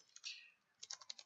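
Quick clatter of computer keyboard keys while coding, a short burst of taps, a pause, then another run of keystrokes, soft and close with no talk.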